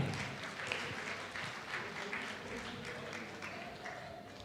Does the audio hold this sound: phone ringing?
no